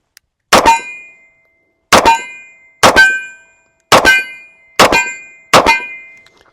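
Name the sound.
Taurus PT-100 .40 cal pistol firing aluminum-cased ammunition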